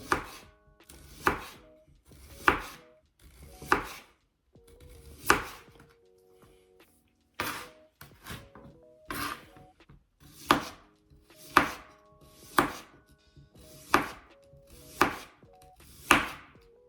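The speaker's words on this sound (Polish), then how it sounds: "Cebulę kroję tylko w plastry." A knife slices onion into rings on a cutting board in steady, crisp strokes, about one every second or so, close and clear with no talking.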